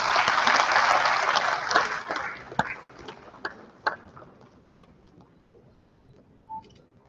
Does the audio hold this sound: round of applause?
yes